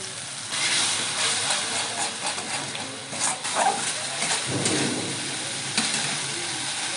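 Water hits a hot pan and hisses loudly into a steady, steamy sizzle with bursts of crackle and bubbling, close and continuous, with no talking.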